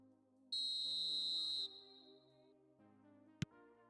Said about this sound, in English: Whistle's gone, that's a foul.